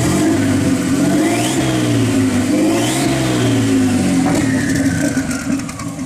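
Turbocharged Dodge Dakota engine on a new exhaust setup, roaring loud and close through repeated uneven revs that rise and fall, with turbo whistle and whir, settling slightly at the end.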